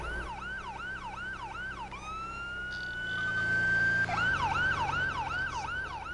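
A wailing emergency vehicle siren from a Roblox roleplay game cycles loudly, shifts into a long rising tone, then returns to a rapid yelp pattern.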